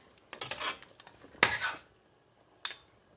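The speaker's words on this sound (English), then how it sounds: "Put the lid back on" Metal pot lid clanks and scrapes against a cooking pot of mutton and swede, two close knocking clatters followed by a lighter clink, with no talk.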